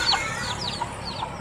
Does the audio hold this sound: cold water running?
no